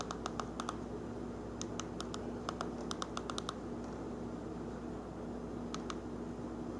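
Typing on a computer keyboard while entering an oilfield job search for Williston, North Dakota: bursts of close, crisp key clicks in quick irregular runs, then a pause and a couple of final taps over a steady hum.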